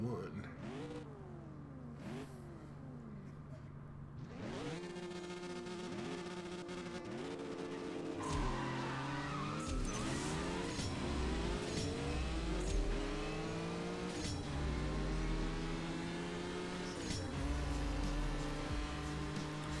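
Racing car engines in the CSR Racing 2 mobile game, with a McLaren P1 in the garage, rev and shift through repeated rising whines in a loud continuous stream, while someone talks over them throughout.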